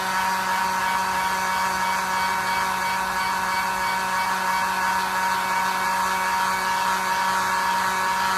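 A hair dryer drying paint on an owl painting, a loud, steady, close blowing drone with a constant motor whine that continues unbroken.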